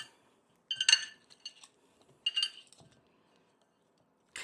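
Cut fries being tossed with oil in a bowl, heard as two short bursts of clinking, rattling contact about a second apart, close and fairly quiet, with small scattered knocks between and a brief clatter at the end.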